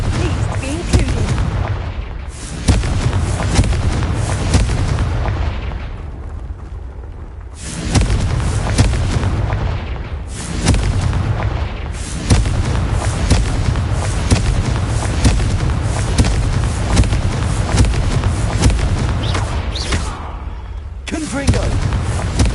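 The Confringo explosive spell in Hogwarts Legacy sounds as repeated loud booming blasts with rumbling tails, spaced every few seconds over a continuous game soundscape, with talk in places.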